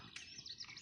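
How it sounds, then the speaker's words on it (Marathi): Morning birds chirping outdoors at sunrise, giving faint, high, repeated tweets and short calls that overlap steadily over a quiet background. "पक्ष्यांचा आवाज"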